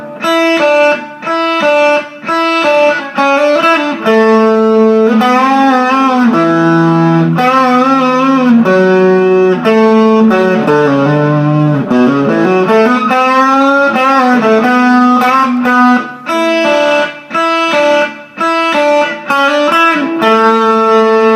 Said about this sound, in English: It's starting to get some pretty nice crunchy tones.